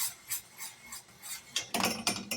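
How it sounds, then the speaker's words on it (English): A spoon scrapes and rubs against a pot of wax melting in a water bath on a stove for homemade lip balm, giving soft, faint, uneven strokes that grow louder and quicker toward the end. "And we're just going to stir this."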